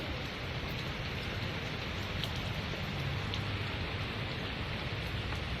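Rain falling over a canal during a fishing trip, a steady dense patter on surfaces and water that continues evenly and moderately loud with no voices.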